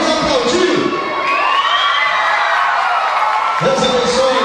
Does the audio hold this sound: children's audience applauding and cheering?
yes